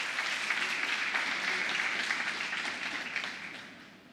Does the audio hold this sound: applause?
yes